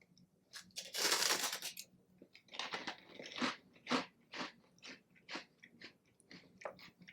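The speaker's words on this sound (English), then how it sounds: "this really looks like a really well seasoned, twisted pork rind" Loud, close crunching and chewing on a seasoned, twisted pork rind snack, with a burst of bites followed by a steady series of crisp crunches and no talking.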